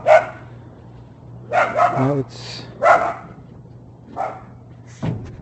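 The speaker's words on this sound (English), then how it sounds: "Neighbor's little dogs." A neighbour's little dogs barking outdoors near a Jeep Comanche bed trailer camper: several sharp yaps and bow-wows in irregular bursts, close and fairly loud, with a steady low hum underneath and someone briefly speaking.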